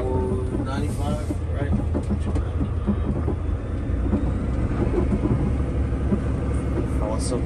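A brand-new Peterbilt 589 truck with a 495-horsepower engine pulls hard, its deep, steady rumble filling the cab while people keep talking over it throughout.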